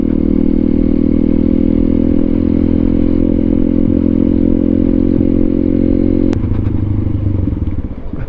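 A motorcycle with a loud exhaust, ridden on a road, drones steadily at close range, its engine note shifting slightly near the end with a few clattering knocks.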